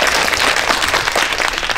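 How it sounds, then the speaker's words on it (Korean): Loud, dense applause from a cinema audience at a film talk event, a continuous roar of many hands clapping with no pause. "네, 박수 부탁드립니다."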